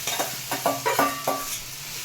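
Grated bottle gourd frying in ghee for a sweet halwa, with a soft sizzle under a few quick scraping stirs of the spoon against the pan, close by and brief.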